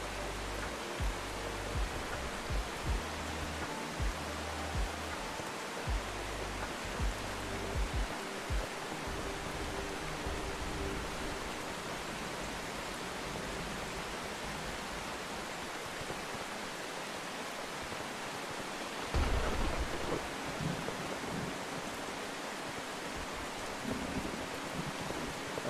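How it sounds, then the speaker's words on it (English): Hail pours down steadily during a storm, a dense continuous hiss of impacts at moderate level with a brief louder burst partway through and no talking. "Hail, of course."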